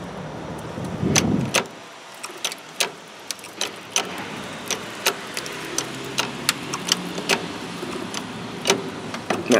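A jack being cranked to prebend the rear frame of a 1991 Lincoln front-wheel-drive demolition derby car: a string of sharp metallic ratcheting clicks at a steady, slightly quickening rhythm, close and fairly loud after a brief rumble.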